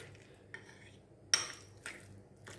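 Mayonnaise being stirred into a chopped egg salad mixture with a utensil in a bowl, giving a few sharp clinks and scrapes against the dish with quiet pauses between them, close and fairly soft.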